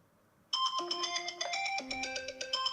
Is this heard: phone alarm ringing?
yes